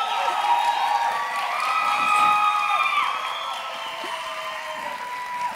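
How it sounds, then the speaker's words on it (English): Audience at a Belmont University show cheers and whoops loudly in a sustained crowd roar, with high voices rising and falling over steady noise. "Guys, I thought all that applause was for me for a second."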